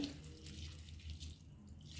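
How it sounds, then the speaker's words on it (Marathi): Mixed lentils being rinsed by hand in water: a soft, quiet sloshing with light drips that continues steadily throughout. "हे दोन ते तीन पाण्याने स्वच्छ धुवून घ्यायचे आहे"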